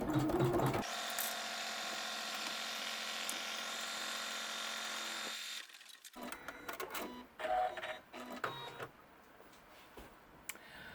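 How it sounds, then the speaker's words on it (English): An embroidery machine stitches in the hoop, making a steady rapid mechanical whir that runs for several seconds, then stops and gives way to irregular clicks and handling noises close by. "I'm going to stitch colorway 14 to hold that down"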